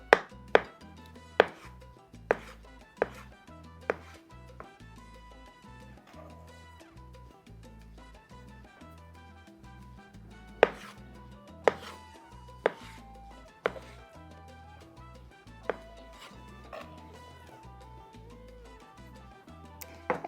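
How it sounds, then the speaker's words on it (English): A knife slices roasted peppers with skins removed on a cutting board for sopes, giving sharp isolated chops in irregular bursts, close and crisp over a quiet kitchen background. "I'm just gonna get these all sliced up."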